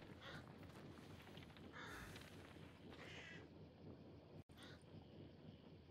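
Crows cawing inside the game Hunt: Showdown, a few harsh calls bursting out over a steady gusty wind and outdoor ambience, with a brief dropout partway through.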